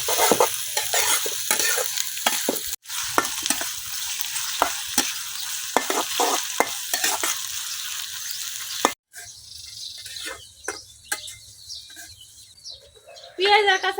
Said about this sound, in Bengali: এখন পেঁয়াজ আর কাঁচামরিচটা কিছুক্ষণ ভাজি করে নেন